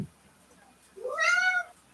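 Amber, a pet cat, gives one drawn-out meow that rises and falls, close and clear against a quiet room, with a faint knock at the start.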